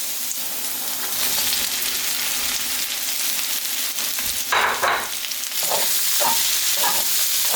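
Shrimp frying in a hot pan for pepper shrimp fried rice, a continuous close sizzle with bursts of stirring and scraping in the second half, no talk.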